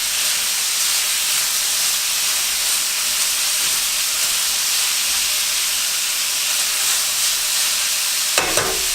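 Red and green peppers fry in a pan with a loud, steady hiss and sizzle, broken by a brief scrape of stirring near the end.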